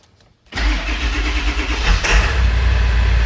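A 7.3L Powerstroke diesel engine in a one-ton dump truck starts up after a short silence, cranking into a loud, close, rough diesel idle that holds steady, with no talking.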